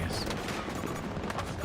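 Gunfire in a Battlefield match crackles steadily throughout, a dense wash of distant and mid-range shots with no clear pauses, loud and continuous.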